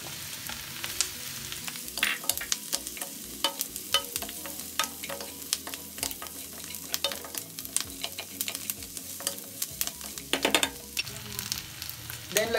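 Onion and chicharon for ginisang munggo sauté in a pan, a soft steady sizzle broken by frequent close clacks and scrapes of a utensil stirring, with no talking.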